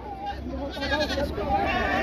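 Goats and sheep bleat repeatedly at a livestock fair for sheep and goats in Buíque, Pernambuco, with wavering calls layered over a busy crowd and chatter.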